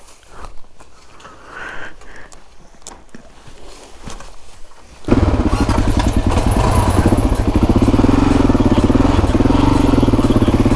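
A motorcycle starts up partway through and settles into a loud, close, steady engine drone with a dense rumble, after quieter rustling and faint knocks at the start.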